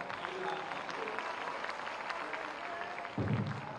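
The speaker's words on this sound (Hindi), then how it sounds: "तालियां कमजोर है, बड़े बलिदान पर" Audience applause at a Hindi memorial ceremony for Atal Bihari Vajpayee's death anniversary, a steady sustained clatter of many hands throughout, with a louder low thump near the end.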